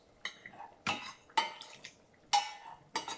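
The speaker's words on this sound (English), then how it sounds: "So I'm going to put in my grated cucumber into my pot" Grated cucumber going into a cooking pot gives a few scattered clinks and scrapes of utensil against pot with soft wet thuds, five short bursts over about three seconds, close and dry.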